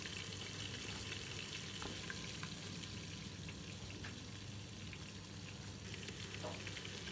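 Garlic paste and onion frying in mustard oil inside a pressure cooker, a steady, close crackling sizzle with faint stirring clicks, continuous and fairly quiet with no talk.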